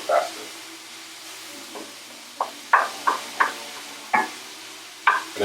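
Ground meat browning in a pan for stuffed peppers, with a soft, steady sizzle under repeated sharp knocks and scrapes of a utensil stirring and spreading the meat, close and fairly loud, with no talk.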